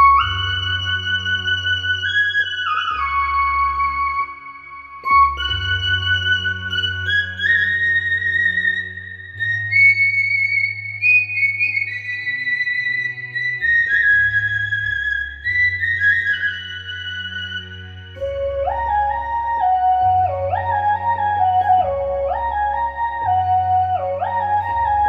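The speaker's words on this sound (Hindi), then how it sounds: "ये हमारा विस्ले, यानी कि सीटी जो हम मुंह से बजाते हैं," A Roland XPS-30 synthesizer plays its whistle tone, a pure whistling lead melody of sustained and stepping notes over a steady low bass line, loud and clear with no talking.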